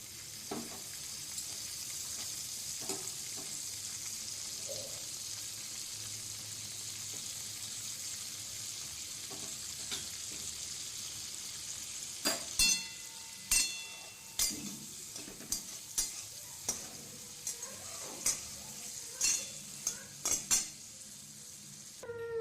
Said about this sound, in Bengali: আবার ওই কড়াইয়ে কিছুটা ঘি নিয়ে কাজু বাদাম আর কিশমিশগুলো ভেজে নেব